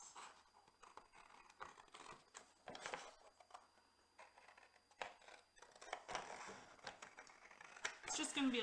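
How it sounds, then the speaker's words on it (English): Scissors snipping through material during a technical theatre and design demonstration, a run of short, quiet, irregular cuts with faint rustling and occasional talk in the background. "So I'm just going to go ahead and cut it with a scissors."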